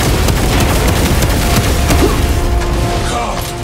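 Dull rocket blasts rumble through a Warhammer 40K: Space Marine 2 battle, a dense, loud barrage of booms and crackling debris that slowly eases off toward the end.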